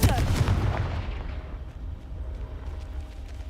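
A Confringo fire spell blast in the video game Hogwarts Legacy opens with a heavy booming burst that rolls into a fading rumbling tail, loud and close.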